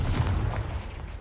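A Confringo explosive spell goes off in Hogwarts Legacy as a short, deep booming blast that starts loud and rolls off into a fading rumble.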